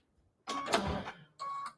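An embroidery machine sews large jump stitches on a wall hanging, giving two mechanical, buzzing bursts with a short pause between, close and fairly quiet.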